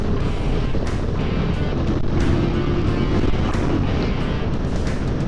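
A QJ Motor SRV 550 motorcycle accelerating in sixth gear at around 120, its engine drone buried in loud, constant wind buffeting against the microphone throughout.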